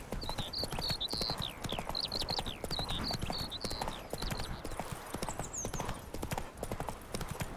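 Rapid clip-clop of Roach's galloping hooves in The Witcher 3, steady and loud throughout, with whinny-like high calls over the top.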